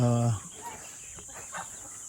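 Chickens at a mixed farmyard with ducks and turkeys: a loud, drawn-out fowl call opens, then fades into softer scattered clucks and short calls nearby.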